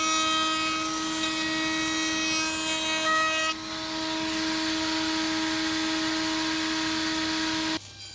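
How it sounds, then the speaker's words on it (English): A router fitted with a round-over bit shapes all four corners of floating tenons milled from a reclaimed-wood offcut, giving a loud, steady high-pitched whine with a brief shift partway through that stops abruptly near the end. "milling down an offcut to the dimensions of the mortise and used a round over bit"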